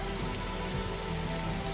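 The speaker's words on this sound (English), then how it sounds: "Rain everywhere." A heavy rain effect in an Unreal Engine 5 horror video game plays as a dense, even hiss of rain on surfaces with scattered drop patter, steady throughout and without voices.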